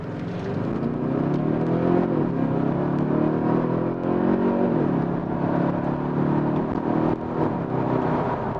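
A 2021 Kia Stinger 2.5T AWD facelift in sports mode accelerates hard, its turbo engine droning loud and steady from inside the cabin, pitch rising and dipping briefly with gear changes, no voices.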